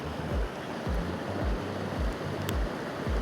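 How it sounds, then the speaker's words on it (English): Rain-swollen mountain water pouring over rocks into a stream in Khao Sok National Park, a steady rushing roar with no talking. "They're dumping water into the stream right now, so you can hear it."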